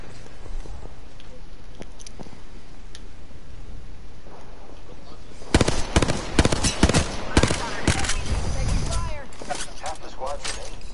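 Video game gunfire during a ranked multiplayer match, with a quiet stretch and then dense bursts of rapid shots from about the midpoint onward, loud and close, alongside scattered speech.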